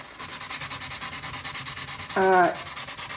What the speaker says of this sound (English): So I'm just gonna sand all these edges and get them nicely prepped for stain, just with 180.